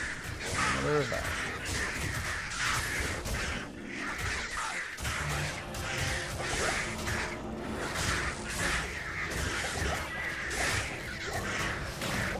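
Crow caws from a necromancer video game, repeated harsh calls mixed into a busy, loud game soundscape with other effects and a voice talking over it throughout.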